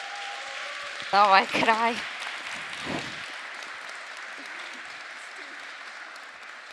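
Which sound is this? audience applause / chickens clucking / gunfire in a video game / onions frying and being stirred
audience applause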